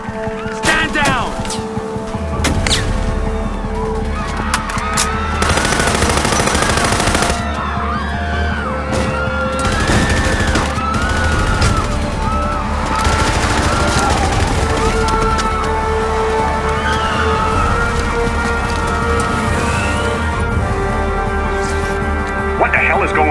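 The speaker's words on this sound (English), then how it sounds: "Gunshots reported in the plaza." Gunfire breaking out in a plaza in the war video game Act of War, with dense bursts and booms filling the whole stretch while voices talk over the shooting.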